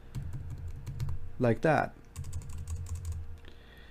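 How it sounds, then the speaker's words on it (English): Computer keyboard typing while inserting text in the vi editor, with a burst of light clicking keystrokes throughout and a voice speaking briefly in the middle. "you will type in the I key to insert. Once you go in insert mode, you can start typing something"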